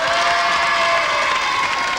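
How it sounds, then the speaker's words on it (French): A French game-show studio audience bursts into dense, sustained applause and cheering that fills the whole moment at close range, with excited shouting mixed in. "Jérôme, on l'applaudit, hein?"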